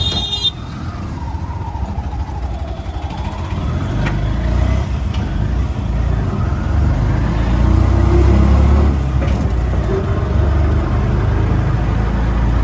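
An auto rickshaw engine drones steadily during a ride through Gurgaon, India, a close, continuous rumble with traffic noise around it.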